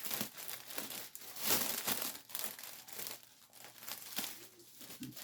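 Cellophane gift wrap crinkling and rustling while being taped around a weekender bag, with irregular close crackles and a louder crunch burst early on, alone without talk.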